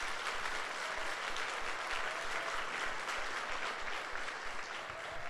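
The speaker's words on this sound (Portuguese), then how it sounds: "Pode dar um aplauso ao Senhor." A Sunday church congregation applauding, a continuous, even roar of many hands clapping together at moderate loudness from start to finish.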